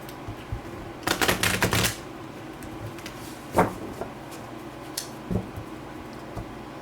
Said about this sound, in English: They're telling me to shuffle the cards here one more time.